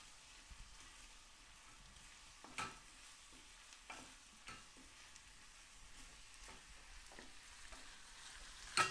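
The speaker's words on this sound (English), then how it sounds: "I'm gonna give this a stir." Turkish lentil soup being stirred in a pot, with faint, sparse scrapes and light clinks over a quiet bubbling background, close but soft, and no one speaking.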